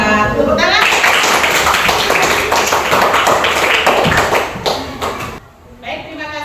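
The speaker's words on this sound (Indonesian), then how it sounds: "Tepuk tangan." Classroom of students clapping hands together in a dense, sustained burst for about five seconds, stopping abruptly before a teacher's voice resumes.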